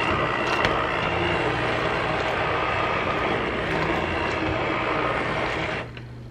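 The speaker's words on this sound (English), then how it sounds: "I'm just gonna take my immersion blender and blend this up a little, not a ton." A steady, loud motorized whir of an immersion blender runs continuously for several seconds, then cuts off near the end, in a kitchen.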